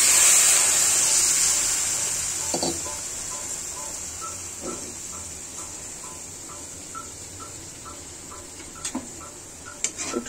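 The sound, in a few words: water poured into hot fish-frying pan, hissing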